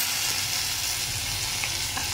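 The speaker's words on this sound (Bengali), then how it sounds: "আদা বাটাটুকু দিয়ে দিচ্ছি।" Ginger paste sizzles in hot oil in a pan for a pomfret fish curry, making a steady, bright, fairly loud hiss with faint crackle and a low background hum.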